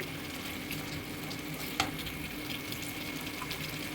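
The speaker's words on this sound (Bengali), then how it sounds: "চিনিটা দিয়ে ভালো করে আমি মশলাটার সঙ্গে মিশিয়ে নিচ্ছি" Spice paste frying for a crab curry as sugar is stirred in, a dense steady sizzle close up with soft scraping strokes and one brief sharp clink midway.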